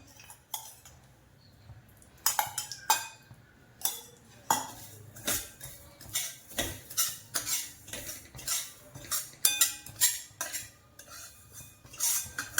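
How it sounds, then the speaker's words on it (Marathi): Poppy seeds dry-roasting in a pan for dry fruit laddoos made without sugar or jaggery, with a spoon scraping and clinking against the metal in steady repeated strokes, close and fairly loud, no talk. "याच्यात घालते खसखस खसखसीला पण भाजून घ्यायचं"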